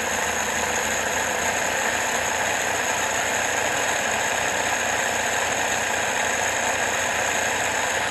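A 1977 Toyota Celica engine idles steadily at about 1,000 RPM, giving an even, continuous mechanical hum with light rattle, heard close up and alone.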